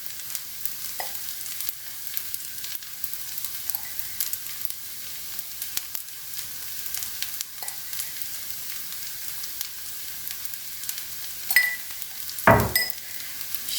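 Vine leaf stuffing mixture with red pepper powder and salt being stirred in a pan, a steady soft sizzle and scraping throughout, with a sharper clink of the spoon near the end.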